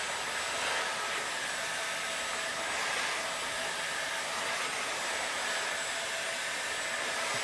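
A heat gun blows steadily while it heats carbon fiber composite material, giving a constant even hiss that runs unbroken and fairly close throughout.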